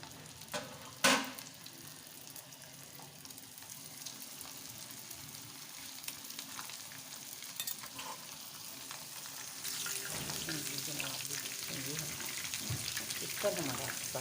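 Food frying in hot oil for a chicken paratha roll, a faint steady sizzle and crackle that grows busier and louder partway through, with a few clinks of utensils.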